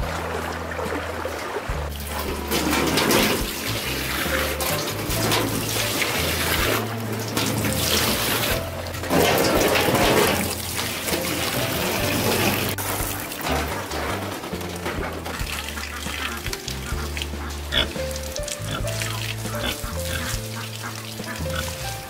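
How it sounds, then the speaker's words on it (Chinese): A large handmade bamboo water wheel turns in a river current and lifts water upward. Steady rushing and splashing water carries on throughout, with occasional creaking or honk-like tones rising above it. "水车在水流的带动下，真的开始旋转起来"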